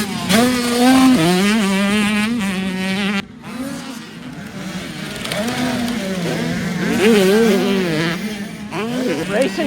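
Youth motocross bikes race off the start gate at Loretta Lynn's Youth Regional, their high, buzzing engines rising and falling in pitch as they rev. An announcer talks over the loud racing.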